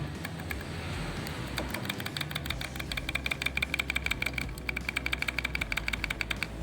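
A Honda CG 150 motorcycle engine part with excessive play is worked by hand to recreate its noise, giving rapid, close, sharp metallic clicks and rattles in quick bursts over a low steady hum.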